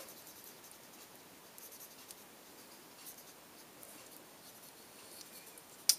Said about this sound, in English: it allows the pencil to flow and move about the paper a little bit